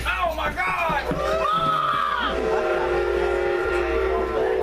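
A train engine's whistle sounds at a railroad crossing on a Strasburg train ride, a long tonal blast with layered harmonics over steady rumbling, with voices talking over it.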